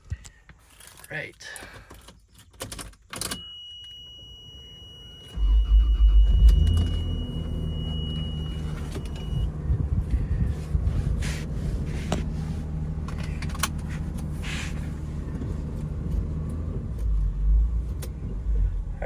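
Toyota Land Cruiser 80 Series with 253,000 miles: clicks and rattles inside the cab, then the engine cranks and catches into a steady, close low idle rumble that continues to the end.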